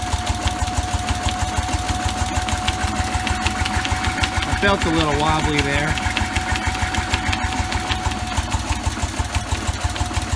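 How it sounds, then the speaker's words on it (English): A Bessemer engine driving a dynamo runs with a steady rapid chugging beat, now and then missing a stroke, while someone talks briefly over the mechanical clatter. "But the engine seems to be doing pretty good. Once in a while it misses."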